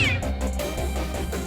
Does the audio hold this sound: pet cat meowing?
yes